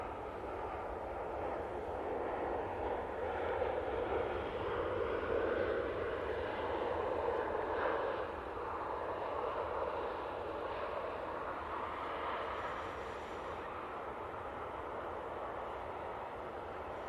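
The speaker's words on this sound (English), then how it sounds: "Very nice touchdown there from the Finnair." Finnair airliner touching down at Manchester Airport, a broad, steady jet roar with engine rumble that holds at an even, fairly loud level throughout, fading only slightly near the end.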